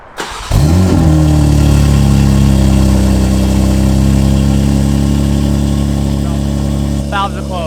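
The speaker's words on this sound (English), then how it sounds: "startup exhaust revealed" A BMW M4 Competition G82 fires up: a sharp starter catch and loud exhaust flare, then a steady, deep idle rumble that holds close and strong, with brief voices near the end.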